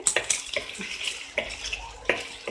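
Boneless chicken pieces fry in a pan with a soft sizzle as a utensil stirs and scrapes. The strokes come as a few sharp, close clinks.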